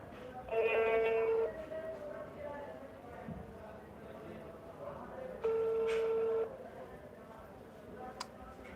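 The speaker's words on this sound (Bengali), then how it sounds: "এই যে আমি আবারও ফোন দিচ্ছি লাউড দিছি আপনারা শোনেন" Phone call ringback tone played over a loudspeaker, two steady electronic rings about four seconds apart, clear and fairly loud over faint background voices.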